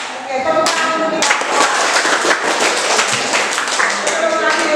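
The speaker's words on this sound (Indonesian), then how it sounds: "Oke, tepuk tangan dulu kita." Classroom of students clapping their hands together at a lesson's close, a dense patter of many small claps continuing steadily throughout, close and fairly loud.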